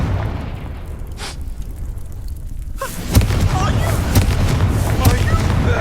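A Confringo fire spell in Hogwarts Legacy lets off a loud booming blast, then crackling, popping fiery bursts continue for several seconds, with faint speech-like sounds underneath.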